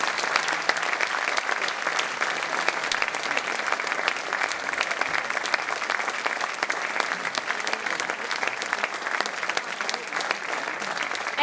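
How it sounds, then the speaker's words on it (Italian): Steady crowd applause for Antonio Bozzo, president of the Bersaglieri association, at a commemorative event, dense even clapping that holds at a moderate level throughout with no voices on top. "Vorrei lo chiamassimo con un grande applauso Antonio Bozzo, presidente dell'associazione Bersaglieri"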